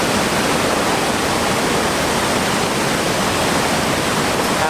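Big Niagara waterfall roars in a dense, steady rush of falling water, loud and close, unbroken from start to finish with no voices.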